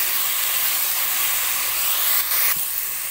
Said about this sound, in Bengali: আমাদের এই পেঁয়াজ আদা রসুনের পেস্টটা আমাদের ভাজতে হবে